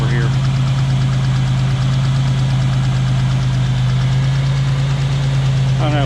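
1987 Buick Grand National engine idling steadily as it warms up, a low, even hum with a slight knocking vibration, close and constant throughout.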